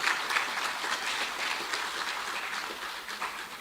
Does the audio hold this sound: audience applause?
yes